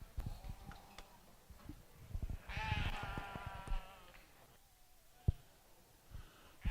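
Sheep bleating in the show ring at a sheep show, a loud, sustained, wavering bleat in the middle of the stretch over a low murmur of crowd and arena noise, with a few sharp knocks nearby.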